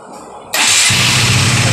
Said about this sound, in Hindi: तो गाड़ी को हम डायरेक्टली मारेंगे स्टार्ट यहाँ से इस तरह से।